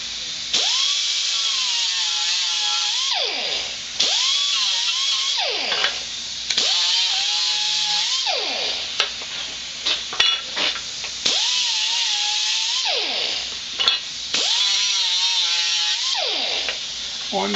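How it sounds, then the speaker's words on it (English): Power tool deburring the edges of metal pieces in preparation for welding, running in repeated high-pitched whining bursts of a few seconds each with brief pauses between passes, loud and close. "Next step, deburr the edges."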